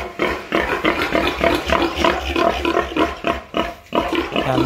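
Native piglets on a pig farm squeal and grunt loudly and close by in shrill bursts that overlap. No one speaks.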